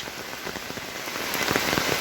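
Rain pours steadily onto surfaces, a close, full hiss with scattered pattering drops that grows slightly louder toward the end, with no voices.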